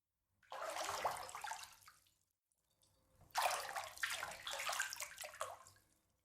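Water fills a bath in two quiet stretches of splashing, pouring flow separated by a brief pause. The sound is soft and nearby, with no voices.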